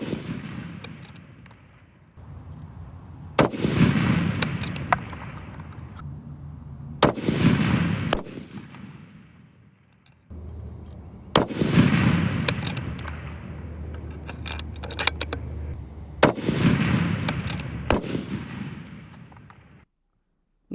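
Four loud rifle shots of Berger 180-grain long-range loads fired toward a 1000-yard target, evenly spaced a few seconds apart, each a sharp crack followed by a long rolling echo and decay, with quiet gaps between.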